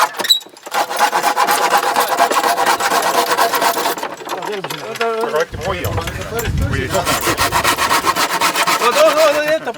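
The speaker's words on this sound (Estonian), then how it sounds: "Tulge nüüd, me peame selle läbi saagima." Hand saw cutting back and forth through wood at close range, fast regular rasping strokes, pausing briefly before resuming, with people talking over the sawing.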